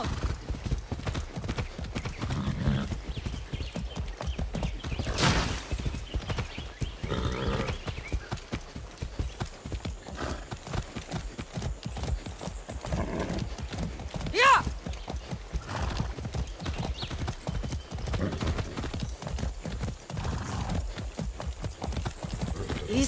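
A horse gallops in Far Cry 6, a fast, steady drumming of hooves close by with an occasional whinny, under shouting voices and game noise.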